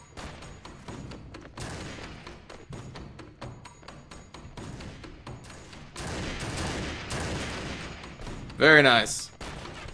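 Gunners in the Mount and Blade Gekokujo mod fire scattered volleys, a run of irregular distant cracks and thumps amid battle noise, with someone briefly talking and a louder burst near the end.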